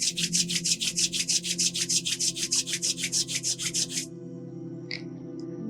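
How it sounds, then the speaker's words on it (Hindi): Hands being rubbed together briskly during a seated yoga session, a fast, even series of close, dry rasping strokes over a low steady hum, then stopping. "हाथों को रब करेंगे।"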